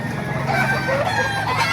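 Chickens cluck and a rooster crows nearby at a chicken market in Baliuag, Bulacan, loud and continuous, layered with other birds in the background.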